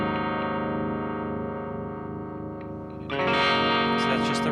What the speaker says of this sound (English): if we have this on and we turn on just the harmonic trim